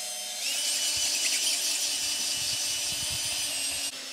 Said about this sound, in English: Hanna is polishing these. And this is now the finishing compound